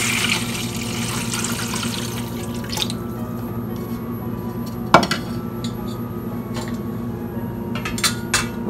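Water splashes and trickles briefly at the start as paneer is dipped in cold water, followed by quieter drips and a few small clinks of a dish or utensil.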